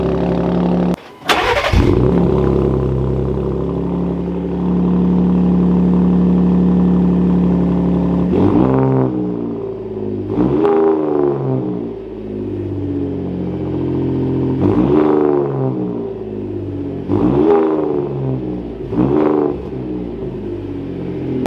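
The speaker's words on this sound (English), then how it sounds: "Now the truck does also have an aftermarket exhaust," A modified second-generation Ford Raptor pickup with an aftermarket exhaust, close and loud. It starts with a sharp burst, then holds a steady deep idle before a series of about five rhythmic throttle blips that rise and fall.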